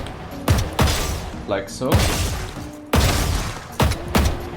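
Gunshots from a Valorant aim drill, fired as single and short bursts in a stop-start rhythm, loud and close, with someone talking briefly between them.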